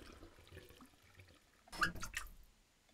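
A water tap in the video game The Crooked Man gives a short, faint gush of running water lasting under a second, rising out of a quiet room.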